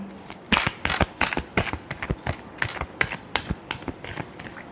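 Tarot cards are shuffled by hand during a reading, a rapid run of crisp flapping riffles and taps, close and fairly loud, repeating irregularly throughout with no talking.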